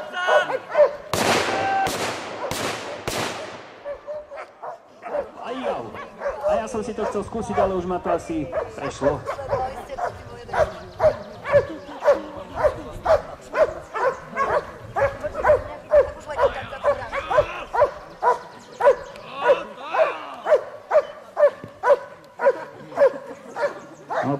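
Police dogs bark repeatedly and rhythmically at a suspect during an outdoor demonstration, a steady run of loud, sharp barks following a few gunshot-like bangs, with someone talking over them.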